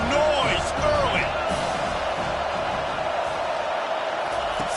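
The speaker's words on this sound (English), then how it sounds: "This crowd bringing the energy and noise early." A crowd at a Boise at Utah game keeps up a loud, continuous roar and chatter, with whistle-like squeaks and thumps near the start that then settle into a dense wash of noise.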